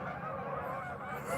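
A large flock of about 200 spooked Canada geese honks continuously in a dense, overlapping chorus, steady and fairly distant.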